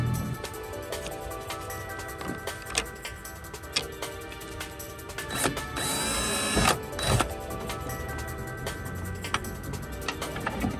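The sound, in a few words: power drill drilling plastic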